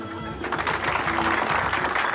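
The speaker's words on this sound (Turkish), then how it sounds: "Güzel alkışlarınız için teşekkür ediyorum." Applause from an audience after a stage performance on a comedy show swells in after a brief quieter moment and continues as a thick, even patter of many hands.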